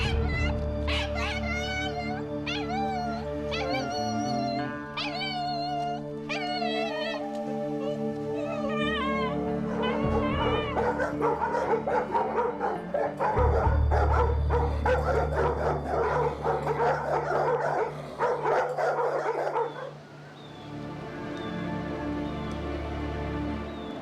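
Dogs kenneled in an animal shelter bark and yelp continuously, a dense chorus of overlapping calls over a steady low hum, with some high whining tones early on and a busier burst of barking in the middle.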